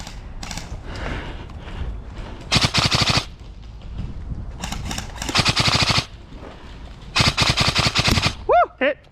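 Airsoft guns fire outdoors during a skirmish game in several rapid automatic bursts of sharp clatter, close and loud, with talking and shouting between the volleys.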